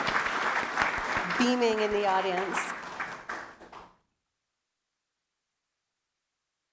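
Audience applause at a town's State of the Town address rises under a speaker's voice, a steady wash of clapping beneath the talk that stops abruptly after about four seconds, leaving silence.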